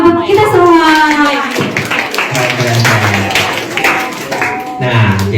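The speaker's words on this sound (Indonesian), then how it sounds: "Boleh ya tepuk tangan untuk kita semua" Audience clapping at a youth religious gathering, mixed with loud voices and a host speaking over it, the claps scattered and close.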